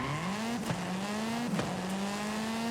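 Car drifting in the Forza Horizon 5 racing game, a steady engine drone with rising pitch that dips twice at gear or slide transitions, with tire squeal layered over it, close and continuous.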